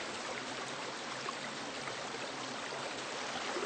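Continuous babble and rush of a flowing wadeable stream in Washington State, steady and close, with faint trickling detail and no voices.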